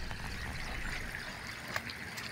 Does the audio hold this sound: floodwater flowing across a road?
yes